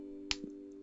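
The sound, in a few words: imitation of a one-handed clap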